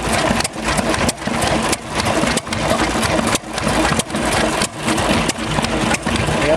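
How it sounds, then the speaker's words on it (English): A painted 1939 2-horsepower hit and miss engine runs at a show, loud and close, with steady regular chuffing firing beats about every half second. "these engines right here, these are called hit and miss engines"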